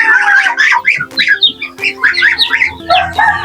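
Loud, close honking and squawking from several geese, calling over one another continuously.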